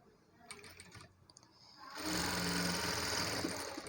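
A sewing machine stitches a blouse, running loud and steady after a couple of seconds of light clicking and handling noises.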